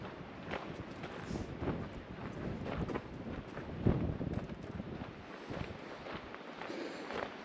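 Steady outdoor wind gusting across a wildflower meadow of lupins beside a trail, a continuous broadband rush with mild swells and buffeting against the microphone, no voices.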